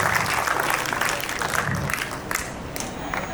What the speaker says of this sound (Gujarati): એક વખત જોરદાર તાળી પાડો આ આયોજકો માટે કે જેને આવા સુંદર પ્રોગ્રામનું આયોજન કર્યું